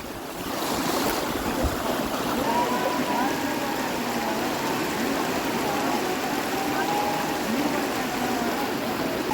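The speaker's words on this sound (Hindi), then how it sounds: "ये पूरा वाटरफॉल है." Spray from Vasudhara Falls in Uttarakhand roars as a dense, steady rushing wash with wind buffeting the microphone, loud and continuous throughout.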